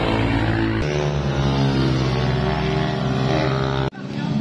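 Honda Click motor scooter passing close on a mountain road, its engine a loud rising drone with a strong buzzing tone that cuts off abruptly near the end.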